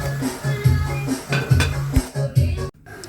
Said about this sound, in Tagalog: Saka tatakpan lang natin muna yan para kumatas yung karne mga tol.